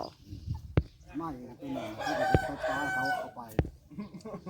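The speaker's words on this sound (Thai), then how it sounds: "อันนี้ไก่พ่อใหญ่จอย" A rooster crows at a rural Thai home, its call rising through the middle of the clip amid clucking and scattered knocks, moderately distant and soft, while people talk faintly in the background.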